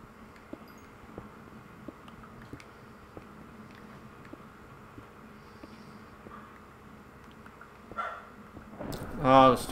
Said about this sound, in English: the stupid dogs are barking